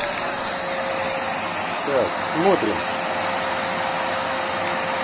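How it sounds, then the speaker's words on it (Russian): A vacuum cleaner hooked to an Ozon carburetor test setup runs with a loud, steady roaring whine and constant airflow hiss, while someone briefly speaks over it. "Пылесос."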